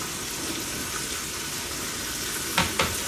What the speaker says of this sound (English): when my bacon gets all cooked out, I want to render all that fat out of there